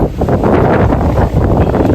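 Steady wind gusting by a river in cold, drizzly weather at an Attappadi viewpoint, a loud, continuous broadband rush buffeting the microphone for the whole stretch with no speech.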